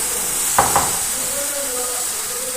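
Banana pancake batter poured into a hot pan gives a soft, steady sizzle with a couple of brief scraping taps near the start, close and alone.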